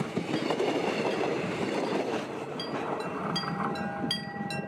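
A train rumbles past up close with rhythmic clattering wheels, followed by the ringing bell of a level crossing as it fades.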